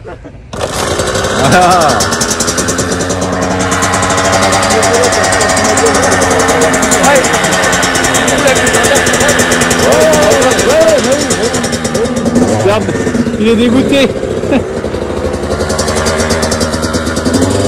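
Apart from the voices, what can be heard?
2021 Kawasaki KX 85 dirt bike engine running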